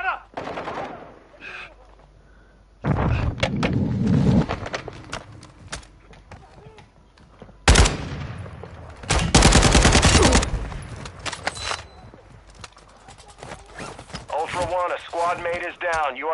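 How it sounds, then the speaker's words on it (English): Video game machine-gun fire rattles in several loud bursts separated by quieter gaps, with a voice speaking and distant shots between the volleys. "You are taking effective fire."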